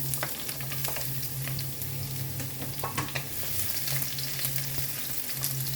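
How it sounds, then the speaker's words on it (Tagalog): Garlic fries in a little cooking oil in a pan, giving a steady close sizzle with scattered crackles and faint stirring, no voices. "Lagyan natin ng konting mantika. And then, syempre, isunod na natin ang ating bawang."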